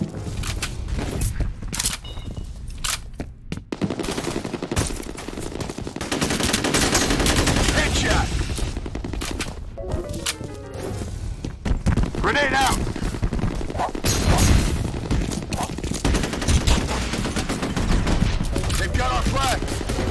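Gunfire in F.E.A.R. Combat multiplayer, repeated loud automatic bursts and single shots clustered throughout, with radio-style voices calling out between volleys.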